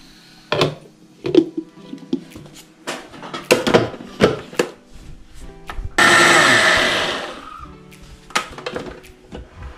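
Blender whirring through a jackfruit seed shake with milk and sugar, a loud steady burst of several seconds that follows a run of clinks and knocks of jars and utensils, with no talk.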